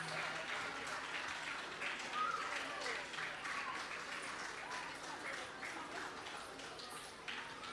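Applause from an audience at a Sri Music Academy award ceremony where the Natya Manjari title is conferred, a steady dense wash of clapping that persists throughout at moderate, slightly distant level.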